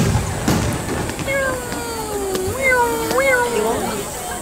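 Whistling fireworks at a Japanese fireworks festival produce several thin wavering tones that slide up and down, some overlapping, over a background of crowd murmur.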